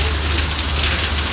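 Heavy summer rain pours down in the Hanoi countryside, a loud, steady hiss of drops drumming on surfaces, close and unbroken with no voices.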